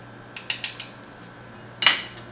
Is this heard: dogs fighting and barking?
no